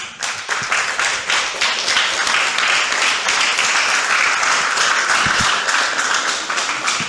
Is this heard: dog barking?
no